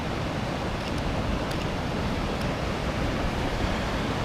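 Ocean waves roll onto the shore in a continuous loud wash of surf, with wind blowing across the microphone throughout.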